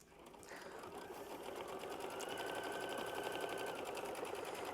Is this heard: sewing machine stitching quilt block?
yes